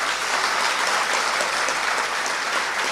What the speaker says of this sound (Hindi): ताली बजाकर स्वागत करो